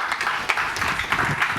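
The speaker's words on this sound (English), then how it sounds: "So can we get a round of applause for Monad?" A round of applause rises from the audience at a startup pitch competition in New York: a steady, moderately loud wash of many hands clapping without speech.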